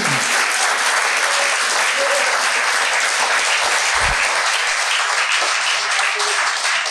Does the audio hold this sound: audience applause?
yes